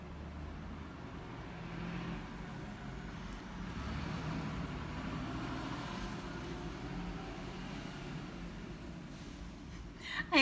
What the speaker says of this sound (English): I'm in downtown Long Beach and trucks just keep going by.